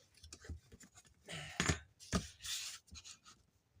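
Cardboard is trimmed in a few irregular scraping and cutting strokes, close and fairly quiet, with a couple of louder bursts partway through and no talking.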